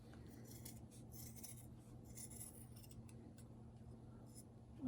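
Scissors trimming craft material for a no-sew Christmas gnome: soft, close snipping and rubbing sounds over a low steady hum, quiet throughout, without speech.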